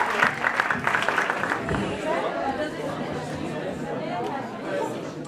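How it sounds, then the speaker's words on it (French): Applause fades into crowd chatter at the final of an eloquence contest, with a brief burst of clapping at the start and a busy hall murmur after it. Voices talk throughout. "Merci à vous et à tous les applaudissements."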